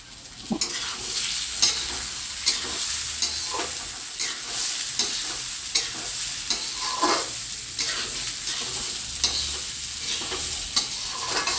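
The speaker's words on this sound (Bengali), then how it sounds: "চালটাকে আমি একটু ভেজে নিচ্ছি।" Rice for basanti pulao fries in a pan with a soft continuous sizzle while a spatula stirs it in regular scraping strokes about once a second, close and moderately quiet, with no talking.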